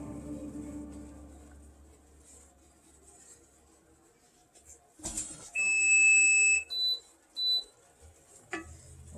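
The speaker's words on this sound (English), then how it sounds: "All these beeps, it's too low." A kitchen appliance alarm beeps in a close, loud, high-pitched pattern: one sustained tone, then two shorter beeps, after quieter stove sounds and faint background noise.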